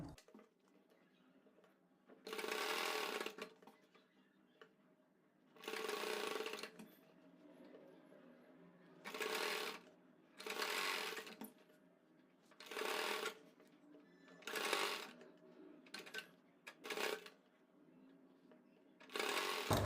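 Sewing machine stitching elastic into the waistband of a palazzo, running in repeated short bursts of rapid whirring with quiet pauses between, close and clear.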